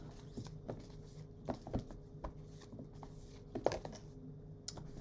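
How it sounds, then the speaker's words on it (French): Tarot cards are shuffled and drawn for a reading, with soft, close, irregular paper taps, flicks and rustles at low volume. "je tire les cartes"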